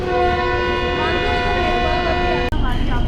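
A loud, steady Tezgam train engine horn blares for a couple of seconds at a station platform, then cuts off abruptly into rumbling background noise.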